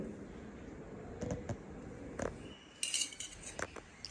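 A spoon clinking against a bowl while stirring papaya paste and curd with gram flour for a face pack, a few soft scrapes and sharper metallic taps, quiet and close.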